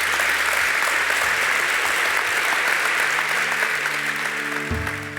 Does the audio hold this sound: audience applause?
yes